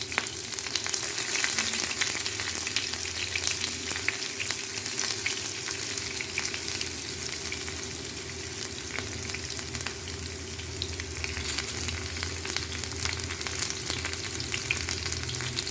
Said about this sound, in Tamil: இந்த ஸ்டேஜில் நம்ம சாப் பண்ணி வச்சுருக்க ஒரு மீடியம் சைஸ் ஆனியனை ஆட் பண்ணுறோம்.